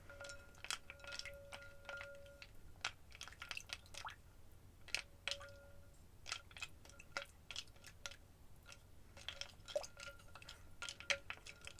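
Wooden spoons tap and scrape against wooden pieces in a soup-making roleplay. The soft clicks and knocks are quiet and close, coming in an irregular, steady rhythm with no speech.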